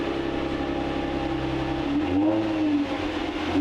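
A Nissan Skyline (Infiniti G35) engine idles close by as a steady hum, then revs briefly with a rising and falling pitch before settling again. The exhaust stays fairly quiet.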